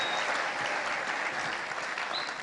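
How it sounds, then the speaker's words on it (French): A church congregation applauds and cheers, dense sustained clapping from many people with faint voices mixed in, steady throughout. "en applaudissant et en acclamant la parole du Seigneur"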